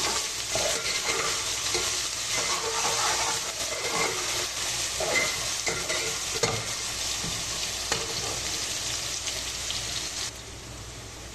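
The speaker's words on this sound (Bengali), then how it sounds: "কাঁচামরিচ দিয়ে আমি পেঁয়াজটা সুন্দর করে ভাজলাম" Chopped onion, minced garlic and green chilies frying in hot oil for a mixed-vegetable curry, a steady loud sizzle with intermittent stirring scrapes throughout, no voices.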